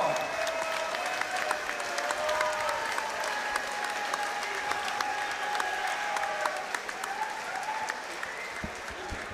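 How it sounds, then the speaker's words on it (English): An arena crowd claps steadily after a K1 world title kickboxing bout, a dense wash of applause that holds for several seconds, with a few brief tonal sounds threaded through it. "Let's have a huge round of applause"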